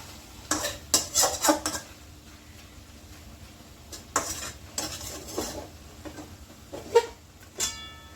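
A spoon stirs tamarind water into a pot of kachki fish curry, with repeated scraping clinks against the pot in short bursts and a faint sizzle underneath.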